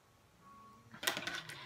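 A sewing machine stitches a quarter-inch seam in fabric for a wine bag, starting after a second of near silence with a short, close run of quick mechanical stitching.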